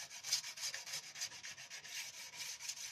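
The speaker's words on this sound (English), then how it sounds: "Just by rubbing the blade, keeping it flat against the blade, I'm going to be taking the burr off." A speed skate blade rubbed flat to take off the burr after sharpening gives a steady, close scraping rasp in repeated even strokes, quiet and alone.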